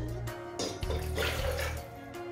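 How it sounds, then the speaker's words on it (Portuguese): Tap water runs and splashes steadily into a pot on a fast-boiling stove in a home kitchen, a close, continuous watery rush with no talk over it. "A minha água para ferver."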